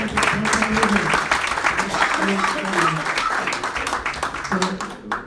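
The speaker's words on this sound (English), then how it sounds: "Give me a round of applause." Clapping from a seminar audience on networking, a short burst of applause mixed with talk and laughter, fading after a few seconds.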